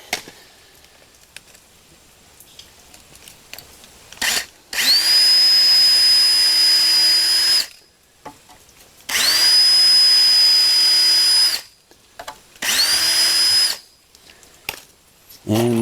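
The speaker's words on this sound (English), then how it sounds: "Now I'll get my drill." A power drill drives screws into 2x4s for heavy duty garage shelves, three loud sustained whirring runs of a few seconds each, separated by clicks and quiet handling, close up.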